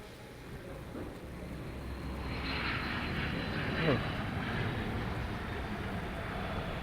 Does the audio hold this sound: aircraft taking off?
yes